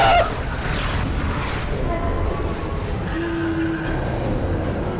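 Missile strikes in Fortnite during a live Megazord event: a loud, steady rumbling roar with a low boom at the start, sustained throughout without clear separate blasts.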